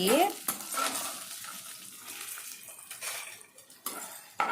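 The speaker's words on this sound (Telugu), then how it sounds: "పచ్చిమిర్చి, మినపప్పు, పచ్చెనగపప్పు, వేరుశనగపప్పు వేయించుకున్నానండి" A spoon scrapes and clinks against a pan as green chillies, black gram, chana dal and peanuts dry-roast for peanut chutney, irregular stirring strokes up close with a faint crackle.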